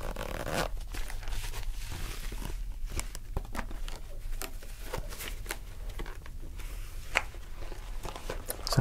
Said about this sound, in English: Just gonna start with a simple scissor cut